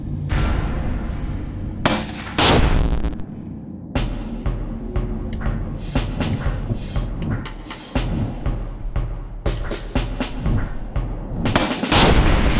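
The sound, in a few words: shooting enemies in the video game Dark Dreams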